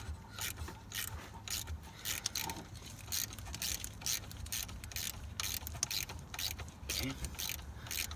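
A hand ratchet clicks in repeated quick bursts while turning stubborn bolts on a 1995 Honda Civic, close and steady, with a brief spoken word in between.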